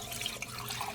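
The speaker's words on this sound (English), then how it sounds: "So let me just pop this beautiful smooth sauce in there." Smooth strained tikka masala sauce pours into a hot pan of chicken, a brief close wet splashing rush with a faint sizzle beneath.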